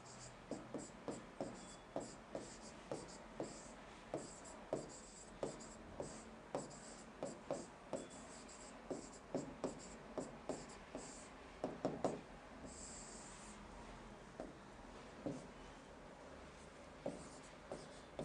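Pen strokes scratch across a writing surface in a steady run of short rhythmic rubs, close and faint, continuing for many seconds without talk.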